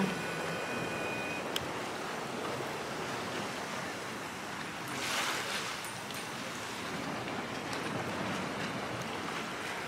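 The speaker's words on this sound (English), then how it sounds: "This is the beach I was trying to show y'all." Waves washing onto a Jamaican beach make a steady, broadband surf hiss with a gentle swell midway. It is faint and distant, with no talk over it.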